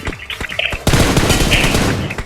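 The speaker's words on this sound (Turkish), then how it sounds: "Adam sıkıyor adam bir yerden" Gunfire in the video game PUBG: a few distant single shots, then a dense, loud burst of rapid automatic fire taking over for the remainder.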